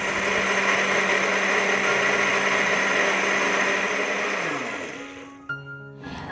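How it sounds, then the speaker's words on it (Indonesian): A blender grinds spice paste with water, a loud steady whir that runs for several seconds, then slows and winds down before stopping with a brief clunk. "Ini nanti dikasih air biar lebih gampang buat dihalusin di blendernya."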